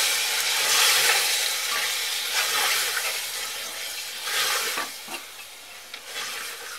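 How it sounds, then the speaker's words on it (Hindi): Goat lungs being stirred into sautéed onions in a hot pan, giving a steady close sizzle and frying hiss with soft scraping stirs throughout, and no talking. "अब हम इसके अंदर गोट लंग्स डाल देंगे, यानी कि फेफड़े, इसे मिक्स कर लेंगे इसे।"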